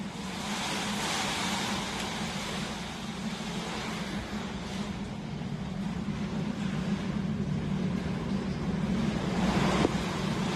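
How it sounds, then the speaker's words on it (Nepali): Strong stormy wind blowing steadily outdoors in Hetauda, a loud continuous broadband roar with gusty surges throughout, no speech audible. "यस्तो ठुलो हावा उड्दो रहेछ नि बाहिर"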